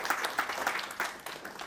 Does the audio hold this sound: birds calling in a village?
no